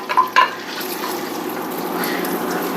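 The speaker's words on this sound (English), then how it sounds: "first thing we're going to do is we're going to get our carrots into our butter" Carrots sizzle in melted butter in a soup pot, a steady close hiss following two quick clinks at the start.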